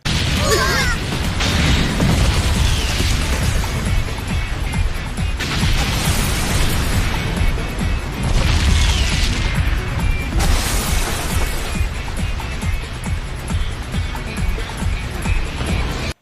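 Fiery explosion effect in an animated fantasy story, a loud, continuous roaring blast with repeated bursts and crackling surges over about sixteen seconds, dense and close with no speech.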